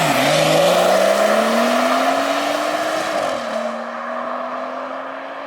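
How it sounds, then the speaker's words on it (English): A BMW M240i engine drones loudly on the road, its pitch climbing steadily through a gear, then dropping at a shift and settling into a lower, quieter hum. "So here we go then, in the 240i."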